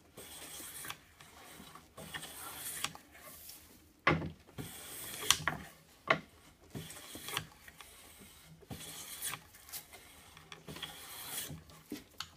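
A hand plane shaves wooden workbench legs in a series of separate rasping strokes of varying length, some sharp and pronounced, others soft, with brief pauses between them and no voices.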